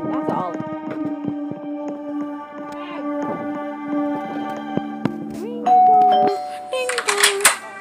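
Two-tone ding-dong chime of a doorbell ringing in the Roblox video game, clear and close, sounding over other game sounds and voices.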